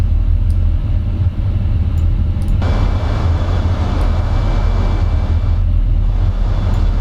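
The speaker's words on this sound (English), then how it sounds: "And then windshield wind." Cockpit windshield wind noise in Microsoft Flight Simulator with the FSrealisticPRO mod, a constant low rumble and rushing hiss that swells brighter partway through and continues steadily.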